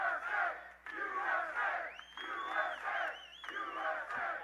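A packed crowd roars a rhythmic chant of "USA" over and over in strong, evenly spaced bursts, loud and close, with a whistle rising above it partway through.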